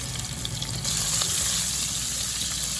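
Cubed, washed and salted potato pieces frying in oil, a steady bright sizzle that swells louder after the first second and carries on evenly, close up.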